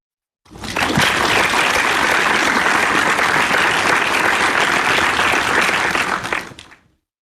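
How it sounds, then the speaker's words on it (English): A room full of people at a Toastmasters club meeting breaks into a loud, sustained round of applause that swells quickly, holds steady for several seconds, then fades out. "Ladies and gentlemen, please give a huge round of applause to Toastmaster Mohammed Viqaruddin."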